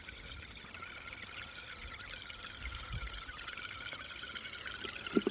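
Steady water flow trickles and pours continuously through a channel, fairly quiet and close, with a faint splash near the end.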